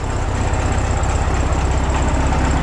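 Air-cooled engine of a 1967 VW Beetle idles steadily and close up, with a fast even chuffing pulse and a faint high whine running over it.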